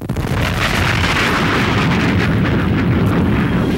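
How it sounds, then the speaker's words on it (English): A Big Bang explosion sound effect: a loud, sustained rumbling blast with crackling bursts throughout, dense and booming for nearly four seconds. "there was action, and it was called the Big Bang"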